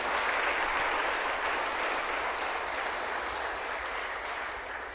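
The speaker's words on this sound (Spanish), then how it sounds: "Dale palmas al Rey." A church congregation applauds for the King during a sermon on victory at the cross, a dense, steady wash of clapping from many people that holds for several seconds and fades slightly toward the end.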